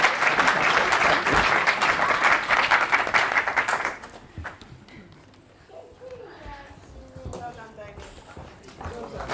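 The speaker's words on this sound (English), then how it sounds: "grand applause for Damien" An evening show audience claps loudly and continuously for Damien for about four seconds, then the applause dies away into quieter room noise with scattered voices and a few cheers.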